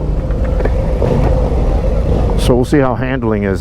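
A 2023 Harley-Davidson Fat Bob, a big engine in a small bike on fat tires, rumbles steadily and loudly as the rider works a touchy throttle, with someone talking over it near the end.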